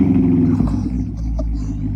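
A 500hp Corvette V8 revving through a newly fitted aftermarket exhaust, a loud deep rumbling drone held steady for a couple of seconds.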